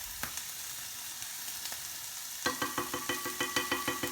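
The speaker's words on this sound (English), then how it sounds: "just going to pop the cod into the pan now. Again, skin down." Cod fillet frying skin-side down in a hot pan, a quiet steady sizzle that bursts into louder rapid crackling and spitting about halfway through, with no talking.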